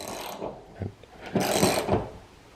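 Screws are anchored into a wall plate with short ratcheting, grinding turns, a few close bursts with brief pauses between.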